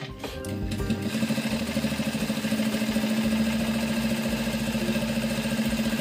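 A sewing machine stitches a small fabric waist bag for holding a phone while running, a steady fast mechanical whirr with rhythmic needle chatter that runs continuously and close up, alone without talk.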